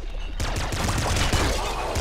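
Rapid dense bursts of laser fire from crystal enemies in the game Nuclear Throne, a continuous barrage of sharp zaps and impacts at steady loudness with no talking.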